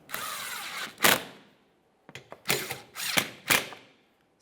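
Hand tool ratcheting 10mm mounting bolts snug on the front lower engine splash shield of a 2014-2018 Mazda 3, heard as short bursts of clicking and rattling separated by pauses, close and moderately loud.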